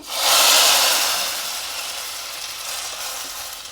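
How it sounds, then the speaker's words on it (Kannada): Loud hissing sizzle as hot tempering hits tamarind-leaf sambar, peaking quickly then settling into a steady, softer crackle. "ಒಗ್ಗರಣೆನ ಇದಕ್ಕೆ ಹಾಕ್ತಾಯಿದ್ದೀನಿ"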